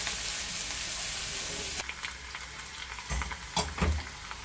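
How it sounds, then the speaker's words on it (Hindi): Garlic fries in leftover oil in a pan, giving a steady close sizzle that drops to quieter crackle, with a few stirring clatters near the end. "अब ये लहसुन को फ्राई कर रही हूँ मैं"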